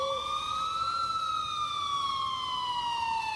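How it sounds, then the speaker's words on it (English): A police siren wails from far off, its pitch sweeping up and then slowly falling, steady and unbroken over a low background hiss. "I finally heard sirens in the distance"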